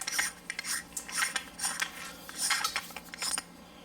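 A TAC5 TAC-3000D 3000-lumen dive light is unscrewed and opened, giving a run of close metallic scrapes and clicks in uneven bursts with no talking.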